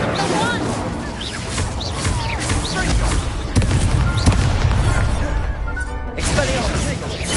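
Incendio fire spells cast during a Hogwarts Legacy duel, booming whooshes and crashing impacts amid a busy mix of combat effects and game music, with shouted voices present.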